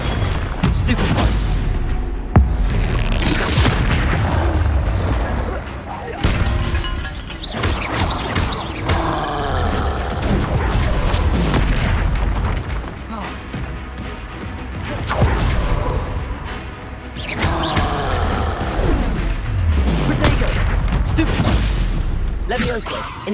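Troll battle in Hogwarts Legacy: heavy booms, crashes and thuds of a large creature fighting, with spell bursts and impacts, loud and continuous, with a voice talking over parts of the fight.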